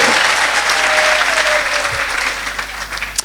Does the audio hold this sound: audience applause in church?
yes